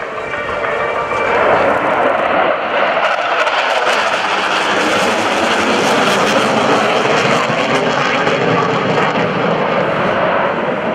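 Navy jet aircraft practicing landings at the NAS Oceana airshow: a loud, sustained roaring jet engine that swells and holds as the plane passes close by.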